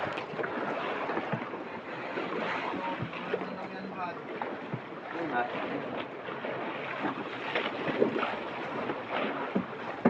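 Steady wash of ocean waves and water splashing with wind buffeting the microphone, continuous and fairly loud, heard from a small fishing boat.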